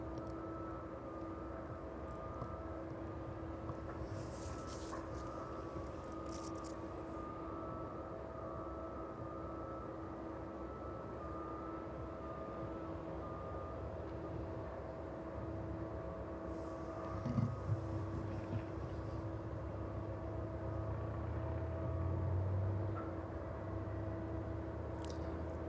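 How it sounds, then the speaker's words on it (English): A Ryanair Boeing 737 approaching East Midlands Airport in the evening, a faint, distant, steady engine drone over a low airfield hum that swells slightly toward the end. "the Ryanair 737 just away off in the distance there"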